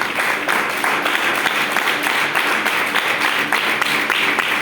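A church congregation breaks into full, steady applause lasting several seconds, dense and moderately loud clapping that fills the room without pause.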